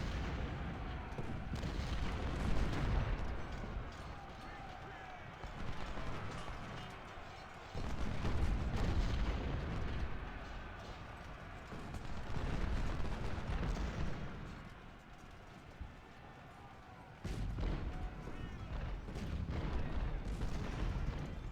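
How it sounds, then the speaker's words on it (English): Cannons booming in a Civil War video game battle at Phillipi, heavy rumbling artillery volleys rolling in repeated waves over about twenty seconds, dense and continuous with brief lulls. "Artillery's focusing on Perrin here."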